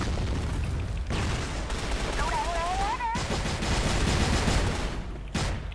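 Video game gunfire crackles in dense, continuous bursts with heavy booms underneath, filling the whole stretch at close, loud level, with a brief whistling tone in the middle.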